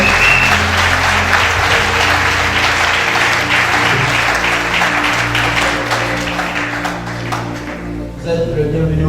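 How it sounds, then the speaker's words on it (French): A church congregation applauding together, sustained dense clapping that fills the room, with a murmur of voices beneath, tapering off near the end. "Acclamons pour la parole qui vient d'être."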